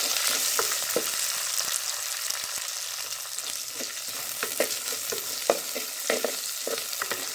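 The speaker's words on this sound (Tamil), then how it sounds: "இதோடு நான் வெட்டி வச்சுக்கிற வெங்காயம், உள்ளி, பச்சை மிளகாய் எல்லாத்தையும் சேர்க்கிறேன்" Chopped onion, garlic and green chilli fry in a pan with mustard seeds, a loud continuous sizzle with crackling pops and stirring clicks scattered across the whole stretch, with no voices.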